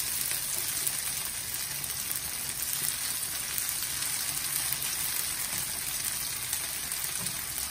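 Potato and chicken hash browns fry in a pan, giving a steady, close, even sizzle with fine crackling and no talk over it.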